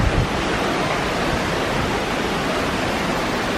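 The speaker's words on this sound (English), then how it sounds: "we ended up at the gorgeous, gorgeous waterfall" Waterfall at La Fortuna, Costa Rica, a steady, dense roar of falling water that stays loud and unbroken throughout, with no voices.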